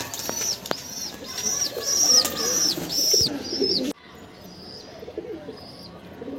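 Roller pigeons kept for flying display cooing and calling close by in a short series of repeated notes, with some wing flutter; the calls fade to quieter background sounds after a few seconds.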